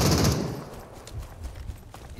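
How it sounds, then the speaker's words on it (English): Minigun fire in a video game, a rapid rattling burst that is loudest at the start and then trails off into scattered shots. "he hit me with the minigun"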